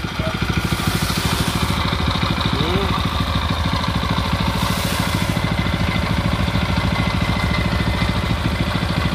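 A Japanese Mitsubishi GM130 small engine idles with an even, rapid chugging, loud and close, running steadily throughout while someone talks over it.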